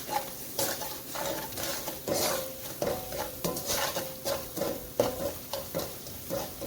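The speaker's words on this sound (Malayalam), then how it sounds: "എടുത്തു വെച്ചിരിക്കുന്ന കടച്ചക്ക ചേർത്ത് ഇളക്കി കൊടുക്കാം" Breadfruit pieces stirred into fried spice powders in a pan, a rhythmic series of spoon scrapes and clinks over a light sizzle, close and steady with no talking.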